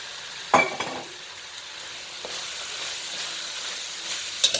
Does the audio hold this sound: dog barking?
no